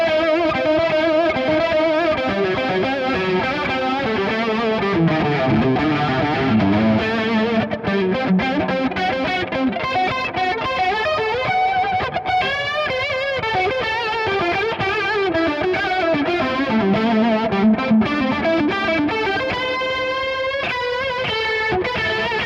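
Electric guitar played through a Valeton CH-10 analog chorus pedal, sustained chords and melodic lines with a shimmering, wavering chorus effect, loud and continuous with no talking.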